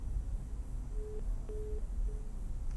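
A telephone busy tone after a disconnected call: three short, evenly spaced beeps, fairly faint over a low background hum, with no voices.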